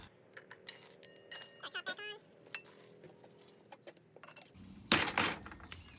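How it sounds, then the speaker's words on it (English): Ice cubes for a whiskey sour clink and rattle into a cocktail shaker in a few scattered, bright knocks, ending in one louder clatter near the end, fairly quiet and close. "So let's carefully pop in some ice here."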